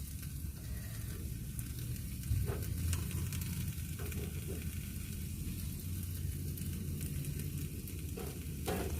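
Pizza topped with feta cheese cooking in a pan inside a van, a steady close sizzle and crackle that holds throughout with occasional small pops.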